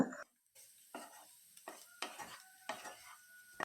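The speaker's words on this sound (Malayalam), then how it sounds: "ഉരുളക്കിഴങ്ങ് ചേർത്ത് കൊടുത്ത് കഴിഞ്ഞ് ഒരു പത്ത് സെക്കൻഡ് നമുക്കിവ നല്ലതുപോലെ ഇളക്കി യോജിപ്പിക്കാം" A spoon scrapes and stirs potatoes with a spice mix in a pan, in several short intermittent strokes with light sizzling, close but fairly quiet, and no talking.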